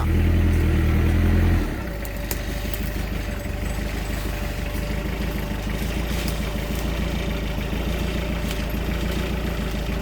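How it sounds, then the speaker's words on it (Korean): A tractor engine runs in a Sangju daebong persimmon orchard, opening with a heavier low rumble for a moment, then settling into a steady, close, droning idle with no talk. "긴급 제한으로 지금 갑자기 지금 트랙터를 타고 따고 있습니다"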